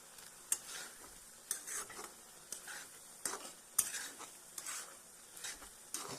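A spoon stirs Maggi noodles in a pan, giving soft scraping and a few sharp metallic clinks against the pan at irregular intervals over a faint low sizzle, quiet and close.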